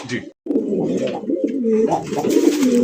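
A pair of red Rajgolla pigeons coo steadily and close by, a continuous low warbling call that repeats without pause, with a brief dropout near the start.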